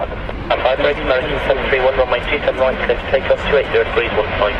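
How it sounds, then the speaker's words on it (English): Boeing 777 airliner taxiing at London Heathrow, a steady distant engine rumble and whine under continuous commentary from people talking nearby. "this 777's going to be coming straight at you"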